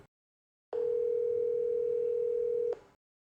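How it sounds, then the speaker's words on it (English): A single steady electronic phone tone on an outgoing call, starting abruptly after a moment of silence and holding at an even level for about two seconds before cutting off, with nothing else audible. "Come on, answer the phone"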